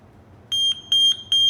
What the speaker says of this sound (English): It made a beep noise and it said it was wet.